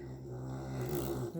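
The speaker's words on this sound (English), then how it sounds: "that was a snore and a half" A long, drawn-out snore rumbles through a quiet indoor room during a card-making session, low and droning with a rougher swell toward the end, close and steady for the whole stretch.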